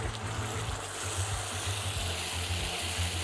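Ginger and garlic fry in a pan and are stirred continuously, giving a steady, soft sizzle with faint scraping. The sound stays even throughout with no talk.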